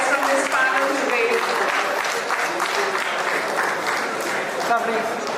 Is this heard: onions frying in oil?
no